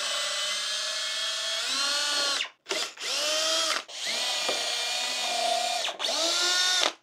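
A power drill pre-drills into a 2x10 wood board, loud and close, with a long whine that briefly cuts out twice and then restarts.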